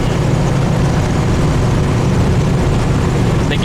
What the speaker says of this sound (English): Little old 350 just purrs.